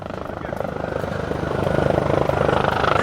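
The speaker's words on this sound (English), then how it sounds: "There's a helicopter." Rotor noise from a helicopter over a beach campsite at Tai Long Wan builds steadily louder as it approaches overhead, a dense continuous thudding whir with little else audible.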